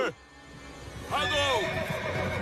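Horses neigh during a chase in an animated Hindi adventure, with one high whinny rising and falling clearly over a bed of background noise and voices.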